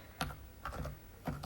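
Three separate keystroke clusters on a computer keyboard, the last a firmer press like hitting the enter key, quiet and close with pauses between.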